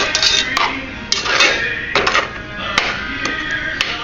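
A spoon scrapes and knocks inside a pot of boiled cookie mixture with melting butter on a stove, making repeated irregular metallic taps and clatters up close, fairly loud and steady throughout.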